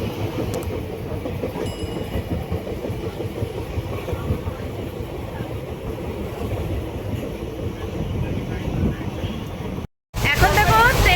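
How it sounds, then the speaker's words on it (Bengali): A fast-moving passenger train rumbles and rattles steadily on the rails, heard from inside the carriage as a loud continuous roar with wind noise, and a voice speaks briefly at the end. "ট্রেন কিন্তু প্রচুর জোরে ছুটাচ্ছে।"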